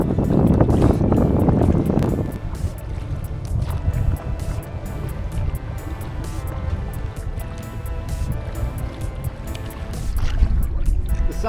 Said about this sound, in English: I was not expecting the winds to be so strong